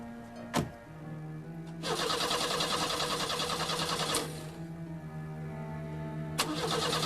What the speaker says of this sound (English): at first the car wouldn't start